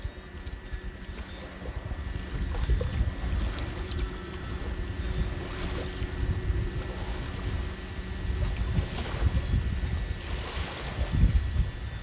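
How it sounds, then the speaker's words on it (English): Strong wind at a beach lake in Carolina Lakes, North Carolina roars and buffets the microphone in uneven gusts, with a low rumble underneath and no voices. "It's also very windy today"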